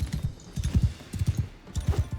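A horse gallops at full speed in Mount & Blade II Bannerlord, with steady rhythmic hoofbeats thudding in quick repeating clusters, loud and close, with faint game ambience behind.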